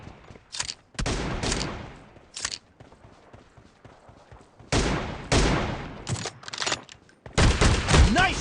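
Shotgun blasts in a PUBG Mobile team deathmatch, loud close bursts fired in irregular clusters with short gaps, mixed with game effects and no talking.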